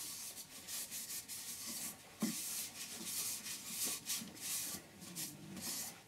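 Sandpaper worked against a small turned wooden bowl, producing fairly faint, rhythmic rubbing strokes that repeat in quick bursts with no talking.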